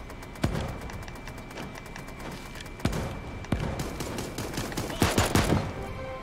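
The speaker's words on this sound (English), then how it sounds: "Throwing nades." Grenades explode during a Super Animal Royale match: several sharp, loud blasts spaced over a few seconds, with a quick cluster of bursts near the end over continuous game noise.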